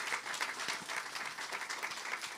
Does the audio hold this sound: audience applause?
yes